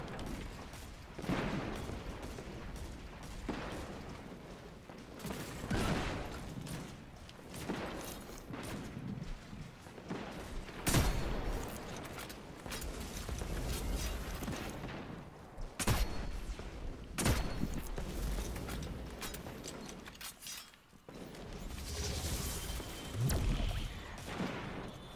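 Gunfire from the Destiny 2 Vault of Glass raid crackles in repeated bursts and single sharp shots over a dense, continuous game soundscape, with several loud blasts standing out along the way.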